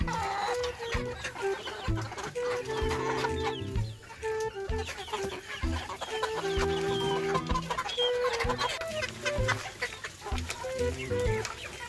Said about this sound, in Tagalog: Yan na po yung ating mga inalaga na mga sisiw.